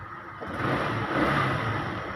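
A repaired Rusi Gala scooter engine runs steadily after an electrical fault was fixed, a close, continuous mid-pitched hum that swells slightly as it revs, with no talking.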